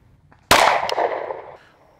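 A single sharp, loud rifle shot fired while zeroing a rifle in a Recover Tactical P-IX+ chassis, with a short echoing decay after the report.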